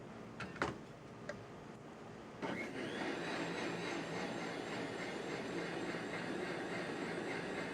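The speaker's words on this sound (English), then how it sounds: "On the blender." Kitchen blender running on strained cooked food with butter, a few clicks and knocks, then the motor switches on into a loud, steady whirring drone that continues to the end, no speech.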